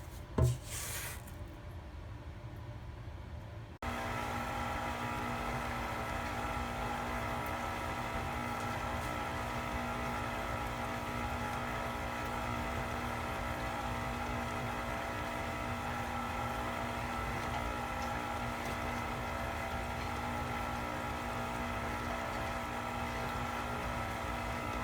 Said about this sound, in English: the second round of mixing has been done for the creaming of the butter and the sugar